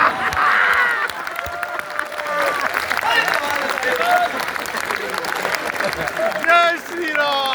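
A live audience claps steadily through most of the stretch, a dense wash of applause with crowd noise and some talking over it.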